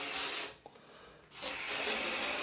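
A hand-pumped spray bottle rigged as a foam cannon sprays in two loud hissing bursts separated by a brief pause, close up and without talk.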